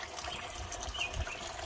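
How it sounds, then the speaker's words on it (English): Engine coolant drains from a removed lower radiator hose, a faint, steady trickle of liquid running into a catch container. "Got most of it all contained and it's still draining out."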